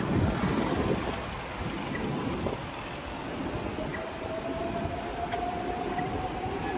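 A Singapore MRT metro train rumbles steadily nearby, with rattling wheels and a faint rising whine as it moves along the track.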